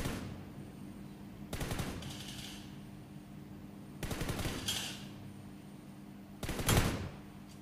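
Gunfire in the mobile battle royale game PUBG New State: three separate bursts of automatic fire, each lasting about a second, spaced a few seconds apart over a steady low game hum, with no one talking.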